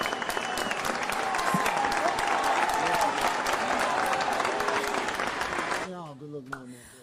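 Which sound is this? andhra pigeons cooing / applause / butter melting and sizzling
applause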